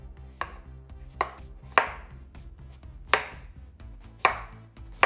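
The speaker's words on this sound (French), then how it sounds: "Maintenant, on va couper nos concombres très finement." Cucumber is sliced very thinly with a knife on a cutting board, crisp knocks landing at uneven intervals about once a second over soft background music.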